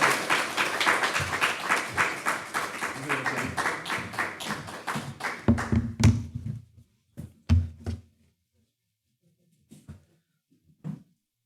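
A church congregation claps to welcome the pastor at a Korean-language worship service, steady applause for about six seconds, then a few isolated taps and thuds in a quiet room.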